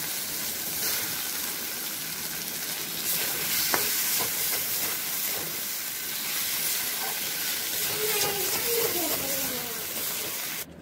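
Pieces of taro fry in a blackened wok, a dense, steady sizzle and hiss running throughout at close range, with a few faint clinks and stirring scrapes.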